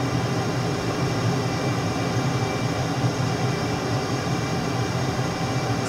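A jet aircraft in Microsoft Flight Simulator gives a steady, broad engine roar and rushing hiss, constant and unbroken throughout, with no talking.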